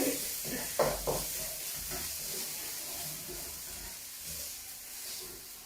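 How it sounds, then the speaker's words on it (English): Tofu green curry being stirred in a sizzling pan, a steady broadband hiss of frying with a few soft utensil scrapes early on, fairly quiet and continuous with no talking. "Okay, so let's get stirring."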